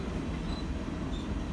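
A freight train passes nearby with a steady, heavy rumble of rolling wheels and cars, a faint metallic squeal rising over the noise now and then.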